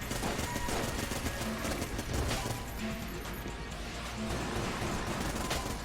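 Dense, rapid enemy gunfire in the twin-stick shooter Enter the Gungeon, a continuous barrage of overlapping shots and crashes filling the whole stretch at steady loudness, with a voice faintly present underneath.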